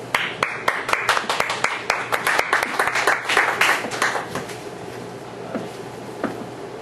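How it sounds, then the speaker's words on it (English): An audience at a lecture applauds the presenter, with clear individual claps in a lively burst that thins and fades toward the end. "So, let's give him a round of applause."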